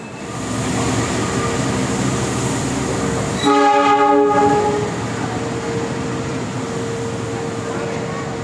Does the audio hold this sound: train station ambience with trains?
yes